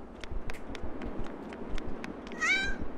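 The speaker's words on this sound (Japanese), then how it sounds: "猫だ。" Cat meowing in the Yomawari 3 horror game, a single clear meow near the end following a series of light rhythmic footsteps.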